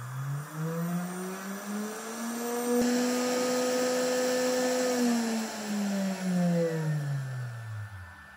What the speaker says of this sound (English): Then I turned on the spindle to make sure that the variable speed controller worked.